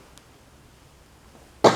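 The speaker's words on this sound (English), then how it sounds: "Excuse me, I had a cough." A single sharp cough bursts out near the end after a stretch of near silence, loud and close.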